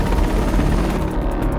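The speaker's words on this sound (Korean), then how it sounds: "긴급 출동한 헬리콥터가 고립된 시민을 가까스로 구해냅니다." A rescue helicopter hovers during flood rescues in central Texas, a loud, steady rotor roar with rapid thumping blade chop filling the whole stretch, close and unbroken, no voices.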